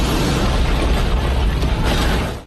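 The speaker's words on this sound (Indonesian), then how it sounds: "benda itu meledak dengan mengeluarkan ledakan yang sangat dahsyat" A huge explosion from the Soul Land 2 animated series: a loud, dense roaring blast of rumble and crackle that holds for about two seconds, then cuts off sharply.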